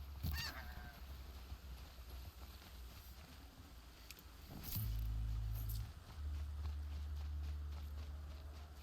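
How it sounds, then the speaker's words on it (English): A goose honks in the video game Horizon Zero Dawn, with a short honking burst over steady game ambience, footsteps and low rumbling, and no speech. "Goose."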